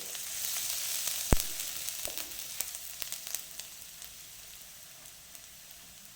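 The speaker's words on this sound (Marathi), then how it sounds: "त्याच्यात एक चमचा बारीक चिरलेलं आलं घालून घेऊ यामध्येच" Chopped ginger sizzling and crackling in hot oil for homemade Schezwan noodles, a steady frying hiss with one sharp pop and scattered small spits, fading slightly over time, with no talking.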